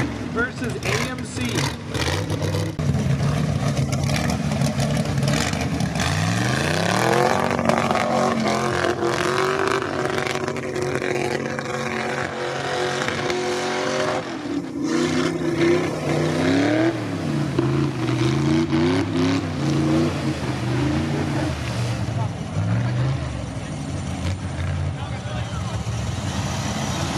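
Off-road 4x4 trucks race through mud, engines revving and roaring with rising and falling pitch sweeps, loud and continuous, while a voice talks over them.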